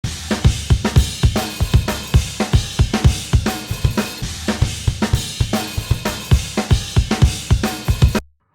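Full rock drum kit processed with the United Plugins Dropkick kick-enhancement plugin, no EQ or compression, playing a steady groove of punchy, heavy kick hits and cracking snare backbeats with cymbals washing on top, loud and alone until a sudden stop.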